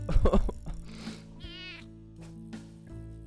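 A cat meows a few times in the video game Cat Goes Fishing, one drawn-out wavering meow standing out, over a quiet tonal background with a brief noisy burst at the start.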